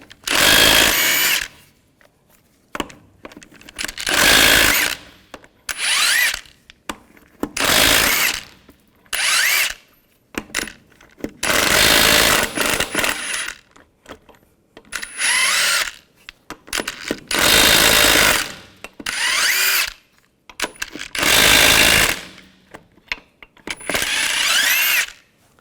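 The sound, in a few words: power tool with 22mm socket removing lug nuts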